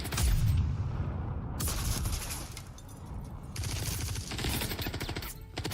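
Automatic gunfire in the Star Citizen Pyro demo game, with sustained bursts of rapid shots, a heavy boom at the start, and fire that fades and returns in waves at a moderate distance.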